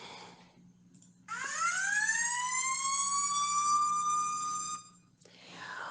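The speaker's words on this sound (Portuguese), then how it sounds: "A sirene da nossa escola, não é mesmo?" A single electronic school siren wails for about three and a half seconds, rising quickly then holding a steady bright tone before cutting off, with faint room noise around it.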